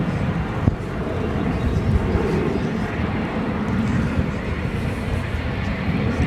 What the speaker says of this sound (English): That is Spirit Airlines Flight 2701 heading to Las Vegas in this A321